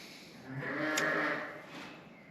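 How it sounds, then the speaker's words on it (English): Sheep and a young lamb in a farm shed, with one drawn-out bleat rising in the middle, moderately near and fairly quiet, over low shed background. "there's another little lamb in there"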